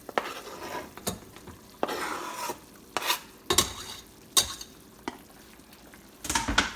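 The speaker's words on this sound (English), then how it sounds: "Now we're going to stir this okra around" Okra being stirred in a cooking pan, with a utensil scraping the pan in distinct strokes about once a second, over a quiet, soft sizzle close by.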